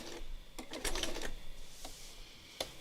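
A sewing machine stitching around an appliqué dot, a faint quick mechanical whirring in short bursts with brief pauses between runs.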